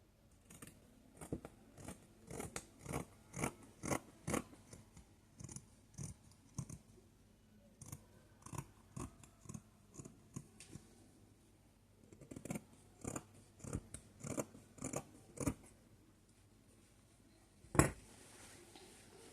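Scissors cut through satin fabric facing in quick rhythmic series of close, crisp snips, with a pause mid-way and a sharp clack near the end.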